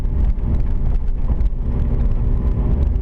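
A 1993 Nissan Skyline R33 GTS25T cruises on rain-wet roads in Vancouver, its flat-spotted tyres giving a steady low rumble and droning vibration heard from inside the cabin, continuous and fairly loud with no talking.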